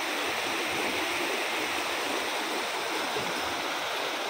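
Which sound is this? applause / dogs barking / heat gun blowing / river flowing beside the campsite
river flowing beside the campsite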